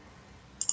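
A computer mouse clicks while data is exported from trend control software, two short sharp clicks close together near the end after a quiet stretch.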